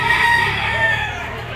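A rooster crows once, close and loud, at a Philippine gamefowl farm that sells broodstock birds, its drawn-out call filling the short moment alone.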